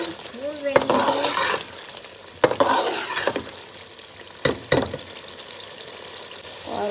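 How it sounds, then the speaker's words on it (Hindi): Salan curry frying in a pan while being stirred, with broadband sizzle and several sharp scraping strokes of the spoon against the pan, close and moderately loud, no talk. "तो जी यहाँ मेरा सालन भूनने पर आ गया है और मैं इसको भून रही हूँ।"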